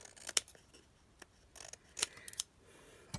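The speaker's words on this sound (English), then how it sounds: "I'm going to trim this paper off of here just a little bit" Scissors trimming paper on a card-making project, a few crisp snips scattered across the moment, close and fairly quiet with no talk.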